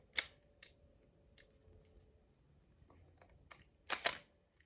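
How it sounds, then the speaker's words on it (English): Fujifilm X-T3 camera shutter at a slow speed: a crisp click opens the exposure, a few faint ticks follow across a quiet gap, and then a pair of louder closing clicks land close together near the end, close and alone. "this is a slow shutter speed, you can hear that"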